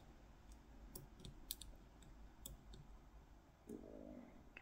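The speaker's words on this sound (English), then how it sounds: "Tiny little click on five. Tiny little click on two. Tiny little click on four." Tiny, sharp clicks from the pins of a Ruko mortice cylinder lock sound as it is picked. The clicks come one at a time at irregular intervals, quiet and close, with a brief scraping rattle near the end.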